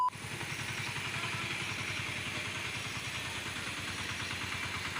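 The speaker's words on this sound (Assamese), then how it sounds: "এই ট্ৰেক্টৰ আহি পালেহি" A tractor engine runs close by, arriving with a steady, loud mid-pitched chugging and rattling clatter that holds continuously throughout, with no pauses.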